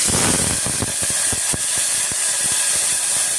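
Green peas sizzle steadily in hot oil in a pan, a dense continuous frying hiss dotted with sharp pops and crackles, close and fairly loud with no talking.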